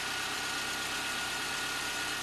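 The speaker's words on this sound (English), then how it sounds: "Car runs as it should." A 2006 Subaru Forester L.L. Bean Edition engine idling smoothly, a steady even hum with broadband noise, heard close up and alone with no voices.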